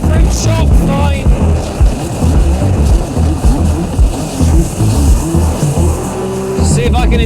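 A Yamaha JetBlaster PRO jet ski skipping across choppy water, its engine droning loudly under heavy wind buffeting and slapping hull impacts, with a rider talking throughout.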